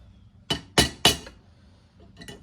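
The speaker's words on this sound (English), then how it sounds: "Anything, flat screwdriver that I'm beating with." Three sharp metallic strikes in quick succession from hammering on a flat screwdriver to seat a suspension part on a STIHL 462 chainsaw, loud and close, followed by quieter handling clatter.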